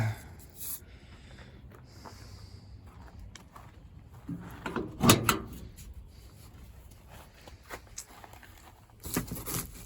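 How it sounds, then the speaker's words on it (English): Crunching and creaking from the worn seat of an old 1968 Ford F100 pickup as it is sat on or pressed, a few soft rustling scrapes with one louder crunch midway, close and quiet. "Oh, listen to that seat crunch."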